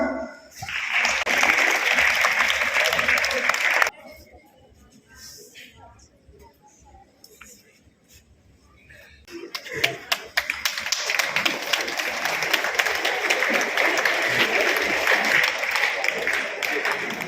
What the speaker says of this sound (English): Please join me in giving a big round of applause to our chief guest, Mr. Ramesh Chandra Gowda